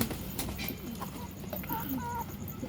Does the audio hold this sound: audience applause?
no